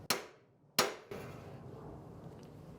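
Two sharp metallic hammer strikes on a center punch, marking a drill hole during an ARB twin compressor install on an 80 Series Land Cruiser. Loud, close blows about 0.7 seconds apart, followed by a softer clatter and low background noise.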